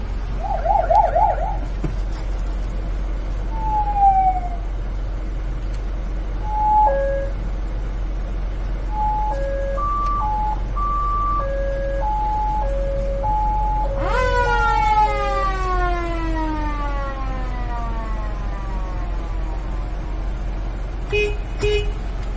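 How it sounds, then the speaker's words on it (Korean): A fire truck siren test runs through several distinct tones and wails, including stepped two-tone patterns, a sweeping electronic wail and a motor siren, with short horn blasts near the end. "사이렌 및 모터 사이렌 크락션 이상 없음."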